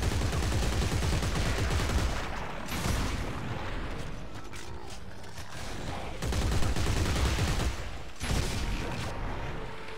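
Gunfire in the Dead Space 3 video game comes as rapid, dense bursts of shots with mechanical clatter, broken by short pauses, moderately loud with no talk.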